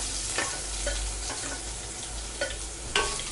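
Green chili, curry leaves, garlic and onion sizzle steadily in hot oil for a manathakkali keerai kootu, with a few brief scraping stirs of a spoon against the pan and no talking.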